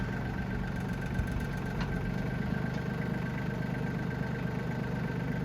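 A tractor engine runs steadily at a stone house renovation site in Portugal, giving a continuous low idling rumble close by with no talk over it.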